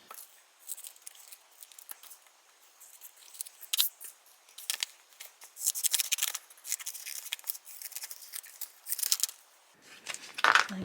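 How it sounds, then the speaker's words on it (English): Scissors snip out small pieces for a personalised wood Christmas sign, a close, irregular series of crisp cuts and paper rustles with brief pauses between them. "I'm just going to cut all these out."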